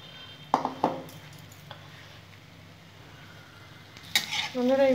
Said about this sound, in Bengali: এইভাবে উল্টা পাল্টে আমি বড়াগুলো ভেজে নেব লাল লাল করে